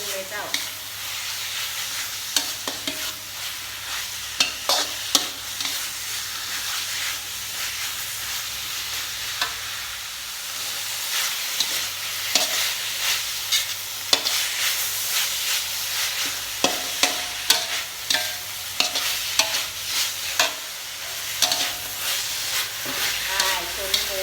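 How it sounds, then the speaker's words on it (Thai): Pork stir-fried in a hot pan sizzles continuously nearby while a spatula scrapes and knocks against the metal in an irregular rhythm, with no talk. "ใส่หมูลงไปคั่วเลย คั่วหมูให้เป็น"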